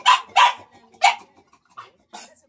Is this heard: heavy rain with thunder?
no